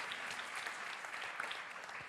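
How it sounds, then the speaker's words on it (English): An audience applauds in a continuous wash of clapping, moderately distant and even throughout the short stretch. "Would you like to share an applause, the two of you?"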